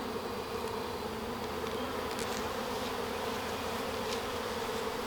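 Honey bees buzz during an inspection of a new hive, a dense continuous drone close by with a few individual bees passing near, no talk.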